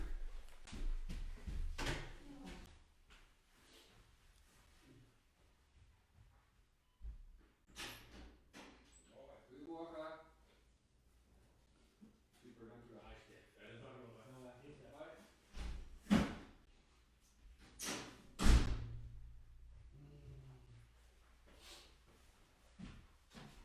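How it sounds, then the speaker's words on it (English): A door being closed indoors: a few short, muffled thuds and knocks stand out against quiet room noise, with speech-like sounds elsewhere in the recording. "Someone is closing out the door."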